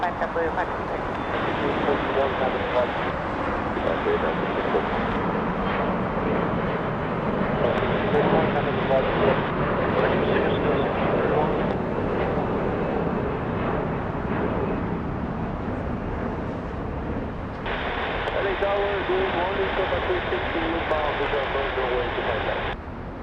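A jet airliner landing at LAX rumbles broadly and continuously at a distance for over twenty seconds, with a steady roar under intermittent radio chatter from the control tower.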